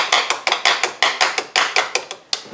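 A car battery terminal clamp is tapped down onto its post with a hammer, giving about a dozen sharp metallic knocks in a steady, quick rhythm, close and fairly loud with no talking.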